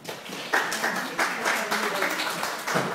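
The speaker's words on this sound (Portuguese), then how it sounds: "Muito bem, palmas para vocês." A small group claps for dancers after a counted routine, the applause uneven and moderately loud with scattered sharper claps and some voices mixed in.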